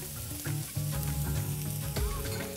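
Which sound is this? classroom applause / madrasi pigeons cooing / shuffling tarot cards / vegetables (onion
vegetables (onion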